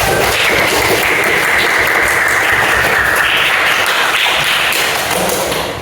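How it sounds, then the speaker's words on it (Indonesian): Students in a junior high classroom clap together in a loud, dense burst of applause that holds steady and starts tapering off near the end. "Kasih tepuk tangan untuk kita semua dong."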